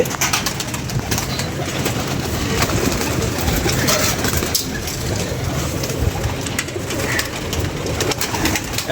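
Pigeons coo in a dense, close flock, soft throaty calls overlapping continuously with fluttering and scuffling over a steady background hum, and no clear talk.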